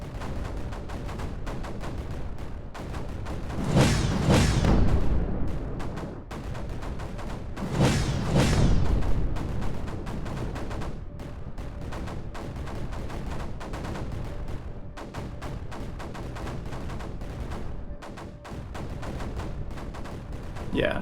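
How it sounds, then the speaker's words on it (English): Mortar shots firing in the strategy game Creeper World 4, two strong booming bursts about four seconds apart over a steady dense background of smaller pops and crackle, no talk. "these mortar shots are much more effective in the amount of creeper they're killing"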